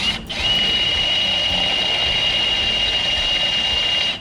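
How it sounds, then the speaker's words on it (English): A cordless handheld drill whines steadily at high pitch after a brief start, running continuously as it enlarges holes in steel, close and fairly loud. "I'm just going to enlarge these holes. Got a drill bit and the cordless handheld drill"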